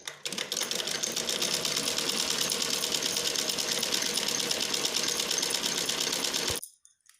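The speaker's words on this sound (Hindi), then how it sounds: "अब हम इन सभी पे सिलाई शुरू करते हैं।" A sewing machine runs in one continuous, steady stitching burst of several seconds while sewing a fabric sewing machine cover, then stops abruptly into silence.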